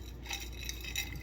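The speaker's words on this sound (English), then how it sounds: "Put them in the jar, and they need to sound like this for a few days and not stick to the wall anywhere." Dried ugli fruit pieces rattle and clink faintly against the inside of a glass jar in a soft, continuous shaking patter, with no talk.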